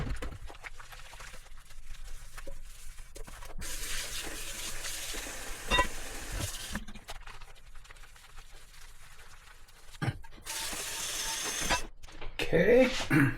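Camping skillet pans being washed by hand in a sink with warm water, with intermittent splashing, scrubbing and clattering bursts under a person talking.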